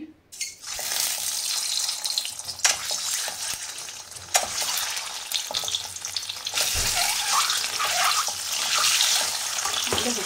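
Scored duck eggs coated with turmeric fry in hot oil for a biryani, making a continuous crackling sizzle that swells and fades as they are stirred, with no voices.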